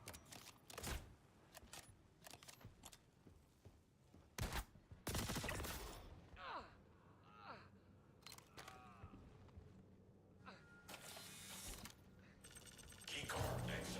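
Bursts of video game gunfire in a game of Storm (Patriot Industries), sharp broadband cracks scattered across the clip with a heavy volley near the end, under game ambience and a voice speaking briefly.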